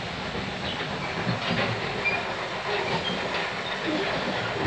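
RER D suburban train passing through a station near Garges-Sarcelles, a steady, loud rumble of rail cars with faint clickety-clack throughout, no speech.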